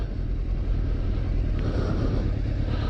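A BMW M4 with twin exhaust passes on a town street in Elgin, Scotland, a steady low engine rumble holding at moderate loudness throughout with no talking.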